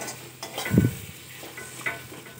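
Masala spices frying in oil in a pan, giving a soft, steady sizzle with a brief stir or scrape near the start and light clinks, close and quiet, with no voices.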